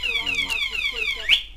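A children's MOWGLI Hardy 8 quad bike alarm sweeps and chirps in quick repeating electronic patterns, fairly loud and close, ending in a sharp rising beep.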